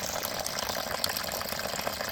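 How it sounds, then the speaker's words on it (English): Water trickles and splashes from a heating system filter into a bucket during a filling loop replacement, an even, close, continuous watery hiss with small irregular spatters. "just let any water trickle into the bucket"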